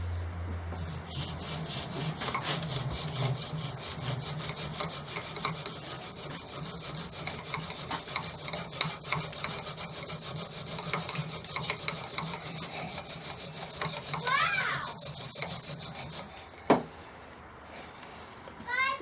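A bamboo spindle is worked by hand for a friction fire, giving fast, rhythmic rasping and grinding strokes close by, with voices faintly in the background, ending in a sudden thump and quieter rustling.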